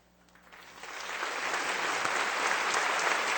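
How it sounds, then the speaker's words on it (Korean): A church congregation at a Sunday evening service welcomes a guest with warm applause that swells from quiet to a full, steady wash of clapping. "이 시간 잠시 일어나 인사하실 때 성도님들께서는 따뜻한 박수로 환영해"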